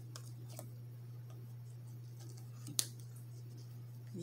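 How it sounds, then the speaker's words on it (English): A few crisp snips of scissors cutting yarn, sparse and quiet, with one sharper cut near the end over a steady low electrical hum. "So hopefully these scissors will work."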